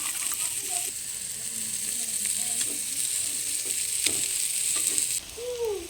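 Bitter gourd slices fry in a covered pan over a low flame, giving a steady soft sizzle throughout with a few faint scrapes and clicks, heard alone without talk.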